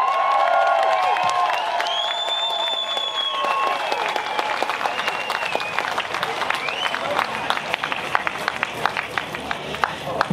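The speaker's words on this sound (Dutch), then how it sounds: "Geef hem een groot applaus, Jeroen Pauls." A crowd at an outdoor commemoration event applauds and cheers loudly and steadily, with whoops, whistles and clapping running all the way through and voices mixed into the noise.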